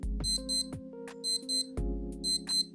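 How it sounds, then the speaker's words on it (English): Electronic beeping from a Casio W-47 digital watch alarm (module 549) in quick repeated bursts, several short high tones in a rhythmic pattern, close and fairly loud. "we can test the alarm by pushing this button here"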